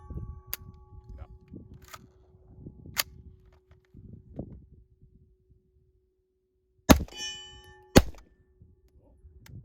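A rifle chambered in 300 AAC Blackout with an Anderson barrel fires two 200-grain rounds, two sharp loud cracks about a second apart, following scattered quiet clicks and handling noises.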